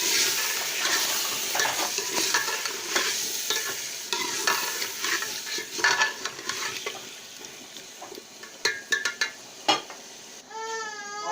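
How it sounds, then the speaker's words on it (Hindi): Diced potatoes sizzle and fry in a pan while a utensil stirs and scrapes steadily, with clinks of metal near the end. "आलू को मैं अच्छे तरीके से भून लूँगी"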